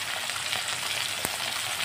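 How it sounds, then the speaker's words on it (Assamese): Tomatoes fry in a little oil, giving a short, even, close-up sizzle with a single soft tap near the end; no one speaks. "ইয়াতে বিলাহীখিনি অলপ তেলত এনেদৰে ভাজি ল'ম"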